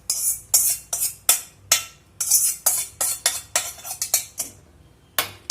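A metal spoon stirs rava kesari in a pan, scraping and clinking against the sides in quick, repeated bright strokes, loud and close, with short pauses between bursts.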